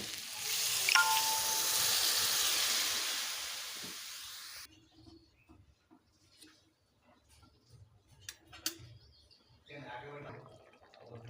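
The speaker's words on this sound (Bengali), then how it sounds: "এবারে দিয়ে দেব পরিমাণ মতো জল" Water poured into fried masala of ginger, cumin and dried chilli in a pan for a potato, pointed gourd and fish-head curry brings a loud hissing sizzle that stops abruptly, followed by quiet clinks, stirring and a voice.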